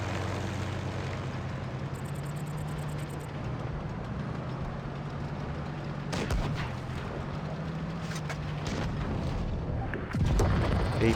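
Tank cannons firing in the World of Tanks Blitz video game during a T-34-3 medium tank battle: a steady engine drone runs throughout, broken by sharp booming shots near the six-second mark and again near the end.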